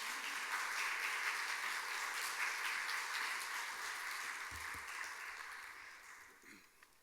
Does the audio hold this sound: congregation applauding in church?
yes